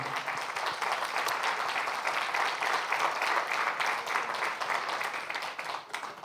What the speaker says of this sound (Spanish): Si yo fuera usted, le daría una ofrenda de aplausos al Señor en este momento